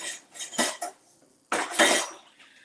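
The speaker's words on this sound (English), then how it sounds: "Let me get a whisk." A whisk is fetched from among metal kitchen utensils, giving two short bursts of close clattering and jangling separated by a brief pause.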